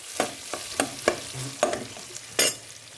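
Onions and garlic frying in a pan for Nepali-style butter chicken, with a spoon stirring in repeated scraping strokes over a low sizzle, close and alone, ending in one louder scrape.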